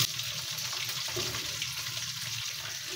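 A steady, loud sizzle of chicken frying in a hot pan with onions, with soft scraping and bubbling underneath.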